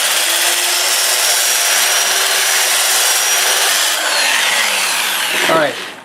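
Sandpaper at 80 grit rubs a live-edge magnolia wood bowl as it spins on a lathe at about 350 rpm. It makes a loud, continuous abrasive hiss over the steady motor drone, then the machine winds down at the end.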